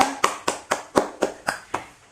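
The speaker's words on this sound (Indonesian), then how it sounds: "Tepuk tangan untuk kita semua." Schoolchildren in a fifth-grade classroom clap together in a steady rhythmic pattern, about nine evenly spaced group claps, moderately loud and close with no talking over them.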